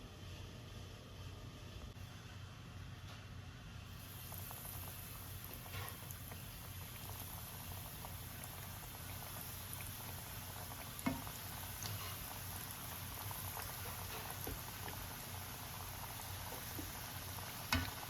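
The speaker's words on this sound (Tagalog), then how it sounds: "ipiprito na naman natin siya sa kumukulong mantika" Tofu deep frying in boiling cooking oil, a steady soft bubbling sizzle and crackle that holds evenly throughout, with a few small pops and no talking.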